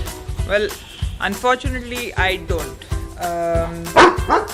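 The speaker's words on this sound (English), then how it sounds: "that's my dog" A pet dog barking close to the microphone in a series of loud, sharp bow-wows with some whimpering yips, interleaved with someone talking outdoors in Pune, India.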